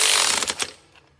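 A hand ratchet tightening nuts on a Rough Country 2.5-inch leveling kit for a 2018 Ford F-150, a quick burst of rapid clicking that fades into a few faint ticks, close and alone.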